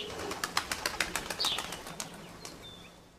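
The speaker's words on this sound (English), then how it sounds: "It's only a bird." Rapid wing flaps from a bird taking off nearby, a quick series of soft fluttering beats that fade away, with a faint thin chirp late on.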